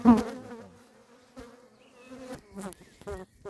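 Close bee buzzing at a hive in loose, uneven bursts, with wings droning and fading in and out over quiet gaps; no talk.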